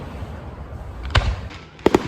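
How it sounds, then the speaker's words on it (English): Fireworks bursting outdoors at night during a party, a few sharp booming pops spaced apart, moderately loud against steady background hiss. "watching the fireworks, as you just saw"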